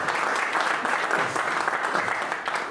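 Audience applause fills a stand-up comedy show at the Blue Brick Theatre, steady clapping from a live crowd at constant loudness throughout, with no talking over it.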